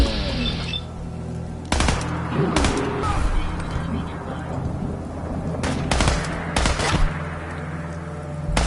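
Gunfire rips through a Fallout 4 firefight in several loud, sharp bursts, some rapid and clustered and others single, over a low rumbling background.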